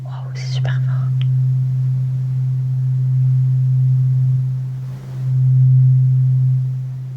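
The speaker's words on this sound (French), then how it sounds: "On va faire du diapason pendant que tu suis la lumière" A tuning fork rings in a sustained low pure hum, swelling and fading slightly as it is held close, with brief whispering at the start.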